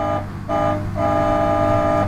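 A toy car's electronic horn honks in a few short toots and then one longer sustained beep, a bright buzzy tone heard close up with no talk over it.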